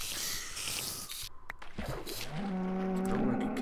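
Cow mooing in Minecraft, a sustained low tonal call rising in the second half of the clip over background game sounds.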